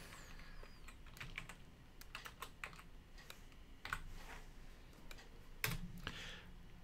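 Close, quiet typing on a computer keyboard during word-processor formatting, a run of irregular sharp key clicks with short pauses and a few louder taps, with no voices.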